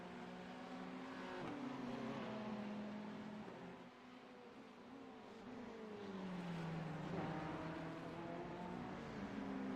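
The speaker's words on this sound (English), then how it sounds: "The Ferrari chasing the BMW." A Ferrari and a BMW GTD race car roar past on a racing circuit, engines rising and falling through gear changes, loud and fairly close, with no voices.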